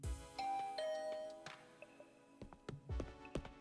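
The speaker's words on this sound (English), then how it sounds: "After pressing the doorbell" A doorbell chime rings in the video game The Hundred Line -Last Defense Academy-, with a clear ding-dong tone sounding a few times alongside soft bumps and knocks, quiet and close.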